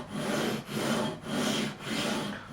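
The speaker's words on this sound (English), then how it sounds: "And this is going to be the fret level." Fret leveling on a Fender Stratocaster neck during a refret, four long, even rasping strokes of an abrasive drawn back and forth over the frets, close and moderately quiet, with no talking.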